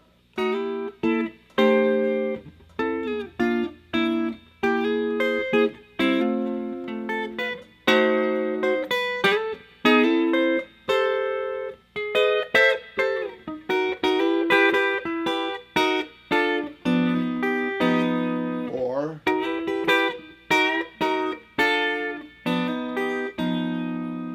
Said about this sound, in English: And now we're going to do like a country jazz chord melody type